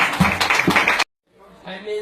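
An audience applauds a performer at an open-mic comedy show, a dense burst of hand clapping that cuts off abruptly, followed after a short silence by quieter crowd noise.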